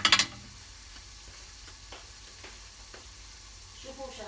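Onion and garlic frying in a pan while a yellow rice dish with chicken thigh is prepared, giving a soft, steady sizzle with a few faint ticks and light stirring, low and even throughout after a brief louder burst at the start.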